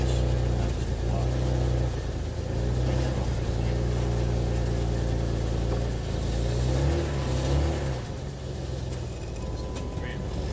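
A Jeep Wrangler 4x4 with sticking brakes idles and revs in a steady rumble, the engine swelling briefly near the end, with no talking heard.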